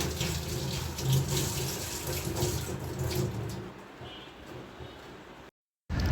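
Tap water running steadily over a freshly picked pomegranate being washed at a sink, a close continuous splashing rush that thins out and then cuts to silence just before the end.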